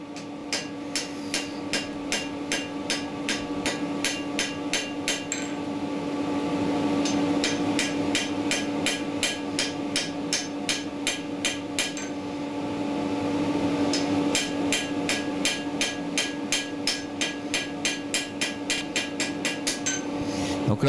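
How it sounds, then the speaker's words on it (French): A knife blade is forged with small, precise hammer blows by an art cutler. The blows fall as rapid, evenly spaced, ringing metallic strikes in several bursts over a steady background hum. "Donc c'est des petits coups de marteau qui sont faits avec précision."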